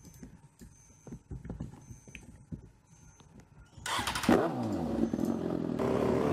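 A motorcycle engine in a video game starts up and revs hard partway through, a loud sustained roar rising and holding after a quieter stretch of low knocks and clicks.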